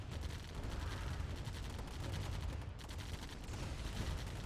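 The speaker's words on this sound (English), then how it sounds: "Let those turrets do their work." Rapid automatic turret gunfire in a strategy video game, defending a held position: continuous dense bursts of shots, loud and steady throughout with no speech over it.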